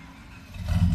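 A Ford F-150 pickup truck engine cranks and catches, a low rumble swelling to a louder rev within about a second, close by.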